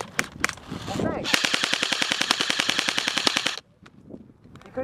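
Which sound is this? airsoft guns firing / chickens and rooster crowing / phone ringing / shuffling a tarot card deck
airsoft guns firing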